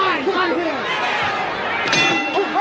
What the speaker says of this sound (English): There's the bell. It ends round number one.